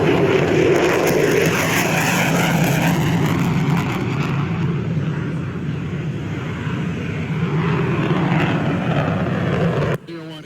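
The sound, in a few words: F-16 fighter jet taking off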